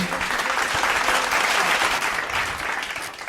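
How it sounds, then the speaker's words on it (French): A church congregation applauds and cheers after a reading of the word of God, a steady, dense wave of clapping that holds loud and even throughout. "Est-ce qu'on peut acclamer pour la parole de Dieu?"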